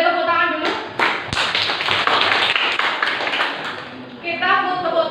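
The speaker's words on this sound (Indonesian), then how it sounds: "Boleh tepuk tangan dulu?" Junior high students in a science classroom break into clapping, a quick flurry of many overlapping hand claps that swells and then fades, with a voice speaking before and after.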